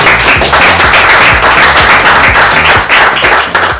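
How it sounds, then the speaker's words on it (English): An audience at a startup pitch event in London applauds, loud, close, dense clapping sustained for several seconds without speech. "Can I ask for another round of applause for us?"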